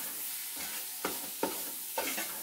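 Onions cook in a pot with a soft, continuous sizzle, broken by three distinct scraping stirs of a spoon spaced about half a second apart, and no voices.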